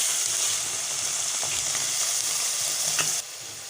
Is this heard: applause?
no